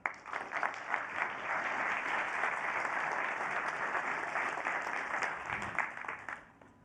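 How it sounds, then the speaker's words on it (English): Warm audience applause greeting Lenka Prokopec Karlberg, CEO of Mitt Liv, at a conference on diversity and inclusion; full, steady clapping for several seconds that tapers off at the close. "Please, a warm applause."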